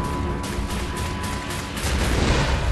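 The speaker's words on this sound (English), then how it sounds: "He's gonna throw those rockets at me, isn't he?" Rockets fired and exploding during combat in the game Wolfenstein: The New Order, a loud rolling barrage of booms and blasts layered over a continuous roar of battle noise.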